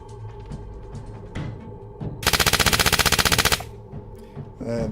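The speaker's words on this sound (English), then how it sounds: "Find the submachine gun." Submachine gun sound effect played during a Fallout tabletop role-playing session: one loud, fast burst of rapid automatic fire lasting over a second, set against quieter background sounds.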